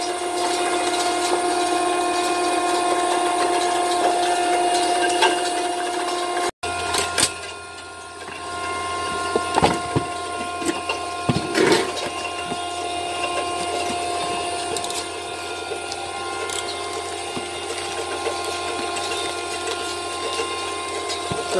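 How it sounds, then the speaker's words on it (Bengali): A machine grinding Korean red ginseng into powder runs with a constant mechanical whine and hum, broken by a brief cut and scattered knocks and clicks as it keeps going. "মেশিন চালু হয়েছে, এই যে দেখেন আপনারা"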